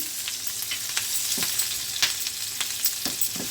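Garlic, green chilli and ginger fry gently in oil over a low flame, a soft steady hiss broken by several distinct spatula scrapes and stirring knocks at irregular intervals.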